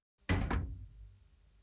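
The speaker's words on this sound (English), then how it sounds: "The door closed." A sliding glass door closing in a hallway: a single firm thud with a short rumble, loud and close, fading quickly into quiet.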